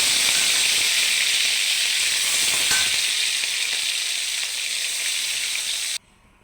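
Small shrimp frying in hot oil in a pan for a Malabar spinach dish give a dense, even sizzle and hiss. It runs steady and close for about six seconds, then cuts off abruptly.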